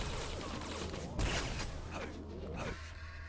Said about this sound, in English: Oh, good rockets from Evil.